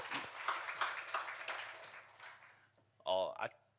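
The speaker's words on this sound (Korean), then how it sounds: "우리 하나님께 영광의 박수 올려드리겠습니다" A congregation at a Korean Sunday worship service claps together, a dense patter that swells and then fades over a few seconds before a single voice speaks briefly.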